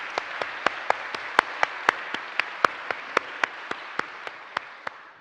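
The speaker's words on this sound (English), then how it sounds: "So perhaps a small round of applause for the Dean and the Vice-Chancellor." Lecture audience in the Grand Hall gives a small round of applause: sparse, evenly spaced individual claps, about three or four per second, heard clearly with little else.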